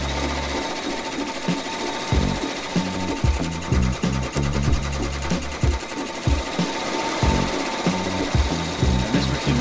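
A serger sewing machine runs fast and steady at about 1,000 stitches per minute, a close rhythmic mechanical whir and chatter with brief pauses and restarts, with no talk.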